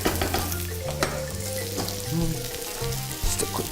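Cold cooked rice goes into a hot pan with prawns and a savoury mix and fries with a steady sizzle, broken by stirring and tossing scrapes.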